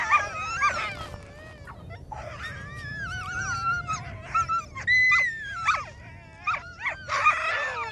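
Sled dogs whimper, whine and howl in an excited chorus while their food is being split into portions, many overlapping high wavering cries near and far with short pauses and no talking.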